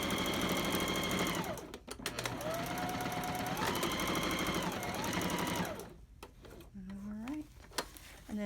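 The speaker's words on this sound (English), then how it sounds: "Pull is a little tricky to sew through, especially on this side because it's kind of sticky." A sewing machine stitches a seam through sticky wet-bag fabric, running in loud rapid bursts that stop and start, with brief pauses between runs.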